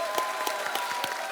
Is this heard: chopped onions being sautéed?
no